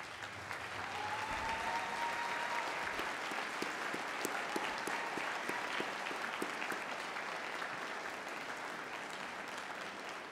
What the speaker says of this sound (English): will you please stand and offer them a round of applause